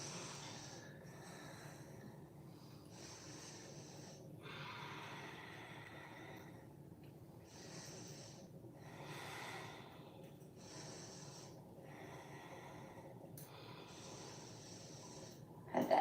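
Slow, audible breaths drawn in and out during a deep yoga squat held for five breaths, each inhale and exhale a soft airy rush lasting about a second or two, repeating steadily and close by.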